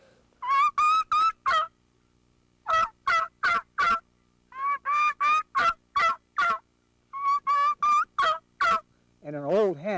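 A mouth call imitates a young jake turkey's deep yelps, coming in several quick bursts of clear, loud yelping broken by short pauses, ending in a rougher warbling run.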